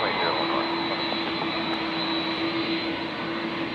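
Qantas jet airliner taking off from runway 01 right at Brisbane International Airport, a loud steady engine roar with a high whine that holds throughout, while radio-style talk sounds over it.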